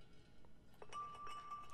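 In the horror video game Soma, a glass object gives a faint clink and a thin ringing tone that lingers quietly over low background ambience.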